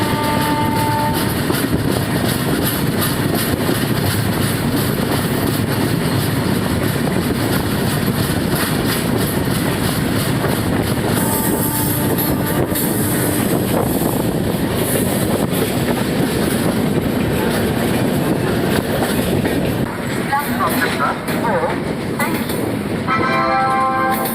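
Bihar Sampark Kranti passenger train running on rails in India, a loud steady rumble with rhythmic clatter of wheels and rail joints that persists throughout, heard from close by, with brief horn-like tones and faint voices in the background.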